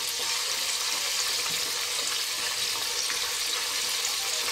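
Chicken pieces deep frying in hot oil for KFC-style broasted chicken, an even, continuous bubbling sizzle that holds steady throughout.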